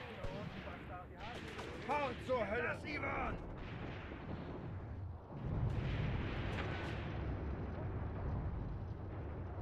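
Machine gun fire in the WWII tactics game Graviteam Tactics: Mius Front, rattling bursts and booming blasts mixed with battle noise, while someone talks over the first half.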